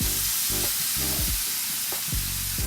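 A wet miso-marinated steak hits a hot pan and sizzles loudly and steadily, with bursts of crackle and a few spatter pops throughout, no voices over it.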